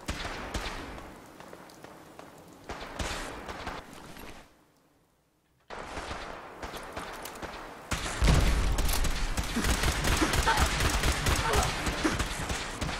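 Gunfire from a Fallout 4 firefight, with repeated sharp shots and bursts that grow louder and denser after a brief silent gap, mixed with game noise and someone talking.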